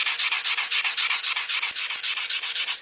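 Rhythmic back-and-forth sanding on stainless steel trim, quick even strokes of a raspy scraping sound, close and loud with no voices.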